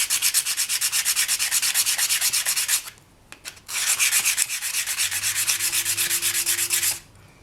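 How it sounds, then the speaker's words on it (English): Polymer clay edges are wet-sanded by hand in rapid, steady back-and-forth strokes. Two long bursts of close, gritty rubbing are split by a brief pause, and a faint low hum sits underneath. "that's all the sanding I think we need to do"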